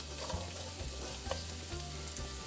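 Onion fries in about two tablespoons of oil in a pan, a quiet, steady sizzle with soft crackles and a few faint scraping knocks, heard alone.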